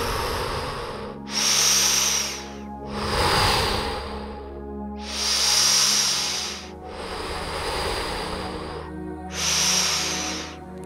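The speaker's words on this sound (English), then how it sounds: "Keep focusing on your breath in and out through your mouth." Slow, deep breaths drawn in and pushed out through the mouth during a beginner yoga session, five or six loud airy hisses in a steady rhythm with brief pauses between, under a low constant hum.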